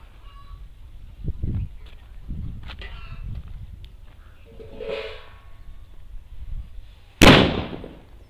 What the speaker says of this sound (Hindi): इस पैरेट वाले बम को।